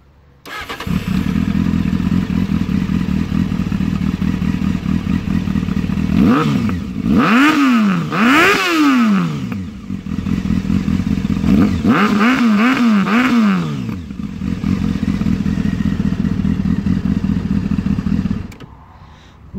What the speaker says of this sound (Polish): Włączę Wam go, uruchomię silnik, zobaczycie jeszcze jak może